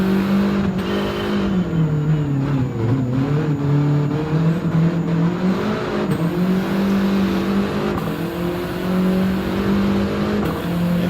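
A VW GTI engine in Gran Turismo 7 lapping the Nurburgring, a loud continuous drone that rises and falls in pitch as the car accelerates and shifts, with faint tire noise and no talking.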